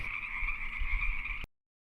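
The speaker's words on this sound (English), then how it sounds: "my favorite sound is frog mating calls" Frogs give mating calls as one steady, continuous trilling drone, fairly faint, that cuts off abruptly before the end.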